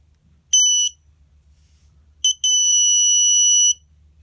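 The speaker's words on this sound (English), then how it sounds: "be aware this is going to be loud because the horn is included" A Snap Circuits electronic horn alarm blares in two loud, shrill bursts, a short one followed after a pause by a brief chirp and a longer sustained blast, with no talking.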